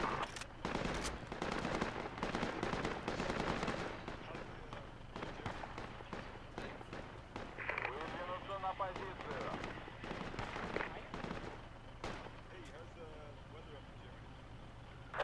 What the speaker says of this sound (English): I'm hearing magical gunfire.